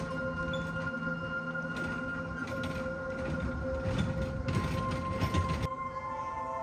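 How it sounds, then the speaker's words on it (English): A small children's train runs at a zoo, rolling and clattering steadily with a rising rumble and rattle in the middle before easing off, amid a faint humming indoor background. "They even had a train."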